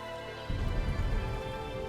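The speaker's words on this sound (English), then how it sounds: "The hills are alive with the sound of raining." Rain begins suddenly in the video game The Darkside Detective after a brief hum, a steady hiss of falling drops with a low rumble underneath, continuous and fairly close.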